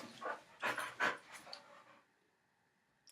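A pet dog panting and breathing close by, several quick bursts of rough, breathy huffs over about two seconds, then fading to near silence.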